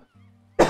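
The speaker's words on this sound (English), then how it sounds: "coughing a little bit more, my friends" A single loud, harsh cough bursts in suddenly after a quiet stretch with a faint low hum, close to the microphone.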